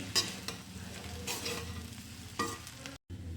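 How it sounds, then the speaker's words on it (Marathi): Flattened rice for kande pohe is stirred and tossed in a sizzling pan, with bursts of scraping and mixing over a steady frying hiss, close up, ending in a brief cut to silence. "आता पोहे पण टाकून घ्यायचे व्यवस्थित मिक्स करायचे"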